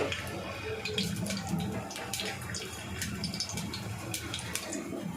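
Crushed garlic frying in hot oil for an egg masala tadka, a steady, dense crackling sizzle that holds at an even level throughout, close by and without talk.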